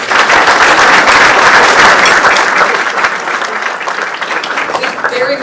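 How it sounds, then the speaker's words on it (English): An audience at a Canfield community morning event breaks into a loud, sustained round of applause, dense clapping that fills the room and tapers slightly toward the end, with a voice briefly audible under it. "can you please give them a round of applause?"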